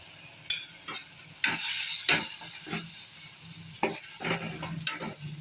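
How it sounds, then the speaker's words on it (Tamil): Tomatoes sautéing in oil with turmeric, Kashmiri chilli powder and coriander powder, a soft sizzle broken by repeated sharp spatula scrapes and stirring knocks at an uneven pace, no talking. "ஆயில் கொஞ்சம் இன்றைக்கி சேர்த்துருக்கிறதுனால அதை வதக்குறோம்"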